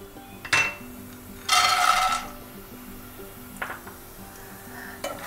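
Peanuts roast in hot oil in a pan for poha, giving short bursts of sizzling and clinks of a spoon stirring against the metal. The quiet pauses between the bursts carry no talk.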